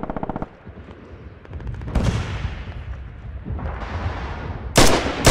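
Machine gun fire from a mounted MG position in a multiplayer war shooter, with bursts of rapid shots, near and far, over distant battle noise and explosions.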